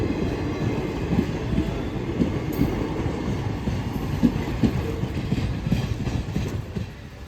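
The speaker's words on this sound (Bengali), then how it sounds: "একটা ট্রেন গেল আর একটা ট্রেন বোলপুর ওই দিক দিয়ে এলো" A train rolls past close by a level crossing near Bolpur, a steady heavy rumble with rhythmic clickety-clack of wheels over rail joints throughout.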